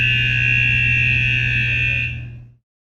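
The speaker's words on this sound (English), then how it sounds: "It will also sound alarm to notify all personnel about the danger." A hydrogen sulfide gas detection alarm sounds one loud, continuous electronic buzzing tone that holds steady, then fades out and stops abruptly after about two and a half seconds.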